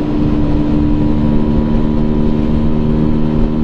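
A Keeway V Cruise 125 motorcycle cruising at a steady 100 km/h on a flat highway, with a constant engine drone and heavy wind rush throughout and no voices.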